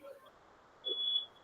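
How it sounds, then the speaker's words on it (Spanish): Electronic alarm going off inside a building, a steady high beeping tone that swells louder in the second half, heard faintly over low room noise. "se ha activado una alarma y pues no podemos hacer nada al respecto"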